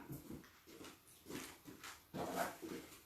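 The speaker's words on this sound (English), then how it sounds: "Helping my dog get up on the chair." A dog being helped up onto a chair gives soft whimpers and huffs in a series of short bursts, faint and close, with no talking.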